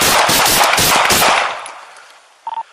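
Police gunfire: a rapid burst of about ten loud, close shots in quick succession, fading out, followed by a brief electronic beeping.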